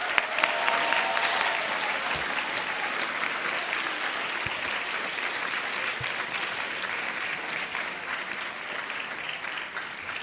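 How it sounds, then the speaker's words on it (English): Audience applause fills an orchestra senior night hall, steady dense clapping throughout from a large crowd, loud and continuous without a break. "Please give them a big round of applause."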